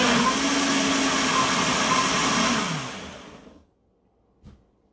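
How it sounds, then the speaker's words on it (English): An old Vitamix blender whirs steadily through a salmonberry smoothie, loud and close, then winds down over a second and stops, followed by a brief soft knock in near silence. "You guys know my Vitamix. It just shoots everything everywhere because it's so ancient. So we're going to cover that up and we're going to blend it."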